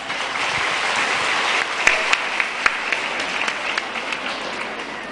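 An audience at a gathering applauds to welcome a lecturer, a loud, dense wash of clapping that stays steady throughout, with a few sharper individual claps standing out near the middle.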